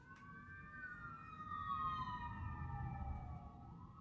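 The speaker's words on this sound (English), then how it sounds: "please excuse the ambulances." Ambulance sirens wail outside, a faint, distant rising-and-falling tone that drifts slowly downward in pitch as the vehicles pass, heard over a low background rumble with no talking.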